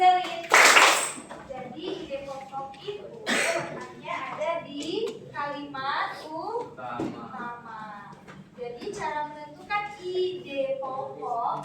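A classroom of students gives a short burst of clapping near the start, followed by children talking and moving about.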